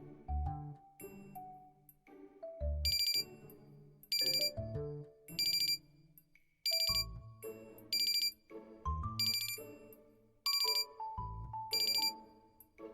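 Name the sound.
phone alarm ringing in Love and Deepspace video game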